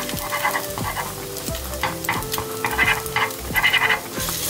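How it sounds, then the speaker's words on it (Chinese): Egg fries in a flat pan while a spatula scrapes and breaks it apart, steady crackling sizzle broken by repeated close scraping strokes. "这个煎的时候要把它稍微弄散一点。"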